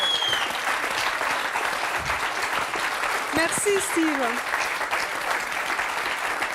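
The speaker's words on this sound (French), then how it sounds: "Oui, je crois qu'on peut l'applaudir encore plus fort." A studio audience at a television show about unusual records applauds a record-breaker with loud, sustained clapping, while a host speaks briefly over the applause.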